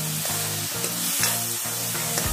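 Ridge gourd vegetable being stirred in a pan with salt, a steady sizzle of frying under repeated scraping strokes of the spoon that come about every half second, close and fairly loud.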